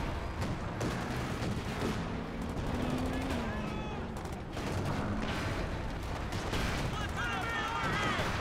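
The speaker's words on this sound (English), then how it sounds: "look at that close-range flak panzer just going to work" A close-range flak panzer fires rapid bursts in a Company of Heroes 2 battle, with dense, continuous gunfire and explosions under a commentator's voice talking throughout.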